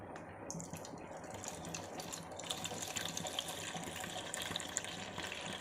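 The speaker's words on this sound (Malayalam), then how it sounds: "ഇനി ഞാനിതിലേക്ക് കുറച്ച് പച്ചവെള്ളമാണ് ഒഴിച്ചു കൊടുക്കുന്നത്." Plain water, about half a cup, poured into ragi flour in a bowl, a steady, soft gushing pour heard close and alone with no talking.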